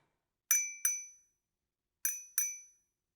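A spoon tapping a glass, two quick bright clinks, a pause, then another pair, each ringing briefly and decaying cleanly in an otherwise silent room.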